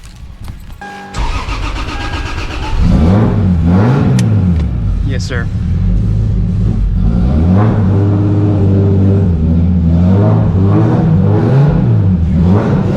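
A Lexus engine cranks and fires up inside a garage, then settles into a loud, steady run with repeated rising and falling revs, while someone speaks briefly over it.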